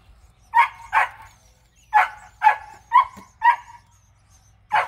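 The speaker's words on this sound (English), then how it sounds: "I had to kind of let my dog come and join us." A dog barks in a series of about seven sharp, close barks spaced roughly half a second to a second apart, loud and clear over a quiet background during fish cleaning.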